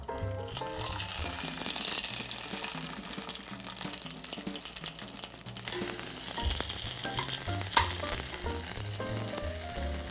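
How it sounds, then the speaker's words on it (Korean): Stuffed bell peppers or paprika sizzle steadily in a preheated pan, a continuous frying crackle with scattered pops running throughout, beneath background music and with no speech. "여기에 미리 소를 채워둔 피망 또는 파프리카를 넣고 살짝만 익혀줄 거예요"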